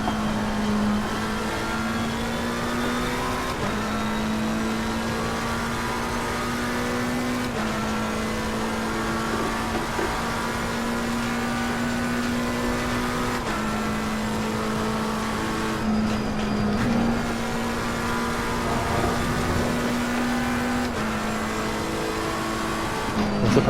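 A McLaren 720S GT3 race car in the Assetto Corsa Competizione racing game drives steadily under load, its engine a loud continuous drone that rises in pitch and drops back at each gear change, with no talk over it.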